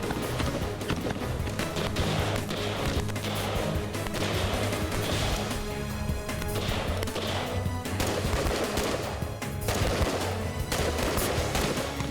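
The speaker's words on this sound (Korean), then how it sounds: "용사, 간부 할 것 없이 이동 사격 훈련을 통해 팀원으로서 기량을 높입니다" Military close-quarters moving-fire training produces rapid bursts of gunfire mixed with running footsteps, dense and continuous at a moderate distance, with no clear speech.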